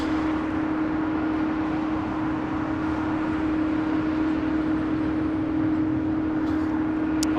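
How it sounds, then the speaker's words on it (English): An airliner takes off at LAX bound for Tokyo Narita, a steady jet roar with a sustained tone heard from a distance, broad and even without any speech. "It's flight 5 taking off to Tokyo Narita."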